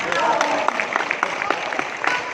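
A seminar audience applauds, a dense patter of claps heard indoors, steady for a couple of seconds while a voice speaks over it.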